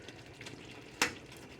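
Spaghetti sauce simmering in a pan, faint soft bubbling and light sizzle with one sharp utensil clink near the middle.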